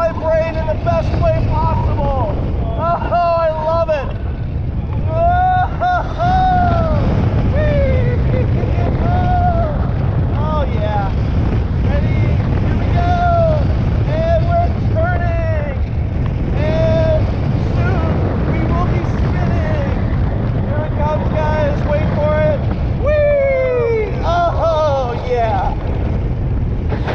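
Wind rushing past riders on Superman Ultimate Flight, the B&M flying roller coaster at Six Flags Over Georgia, a loud steady roar throughout, with excited voices and whoops from riders over the rush.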